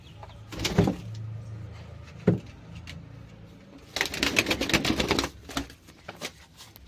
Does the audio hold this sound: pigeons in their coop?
yes